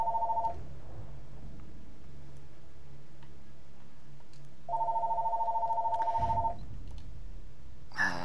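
An in-game telephone rings in Battlefield 1, two short bursts of a steady electronic ring separated by a pause of several seconds, heard over quiet battlefield ambience with a brief thump near the end.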